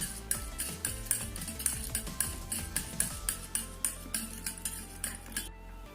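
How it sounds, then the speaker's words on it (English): A spoon stirs olive oil into a mixture in a small bowl, producing rapid repeated clinks and scraping against the bowl, close and fairly quiet, without talk. "I'm just going to add a teaspoon of olive oil and mix this well"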